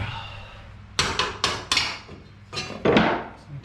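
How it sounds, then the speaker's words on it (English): Hammer blows on metal during floor levelling and tack-welding work, about seven sharp close strikes in uneven clusters with short ringing decays, no speech. "Oh, now hammer."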